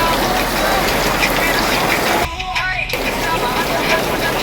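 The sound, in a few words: rain falling during flood in Malabon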